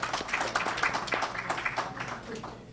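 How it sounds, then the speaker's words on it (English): An audience gives a short round of applause for students at a live-streamed gathering, a scattered, moderate clapping that fades toward the end, with a voice faintly underneath. "give them a hand clap"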